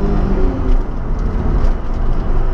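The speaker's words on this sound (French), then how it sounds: "La montée en régime du V6." A Ford Probe V6 engine drones loudly from inside the cabin, its low rumble building steadily as it revs, with road noise underneath.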